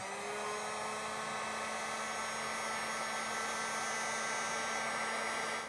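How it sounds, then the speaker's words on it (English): A heat gun blows hot air over heat-shrink tubing on a wiring connection for a compressor install on a 2024 Ford F-250, a steady, even whir with a faint tonal hum that runs unbroken and close by. "you're going to take a heat gun and heat this up, and that's going to cinch these ends"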